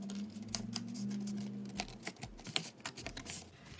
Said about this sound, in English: So now I'm just going to take my scissors and cut like normal